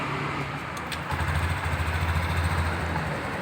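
Honda Beat scooter engine started and then settling into idle, a short starter whir followed by a steady low rumbling idle that carries on evenly, close up and with no talking.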